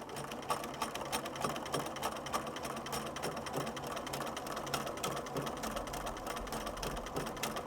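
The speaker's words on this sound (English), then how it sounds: "I'm going to go to another fold and I'm going to do my first invisible stitches." Sewing machine stitching invisible appliqué with a steady, continuous mechanical whir and rapid needle clatter, close and fairly loud throughout with no talking.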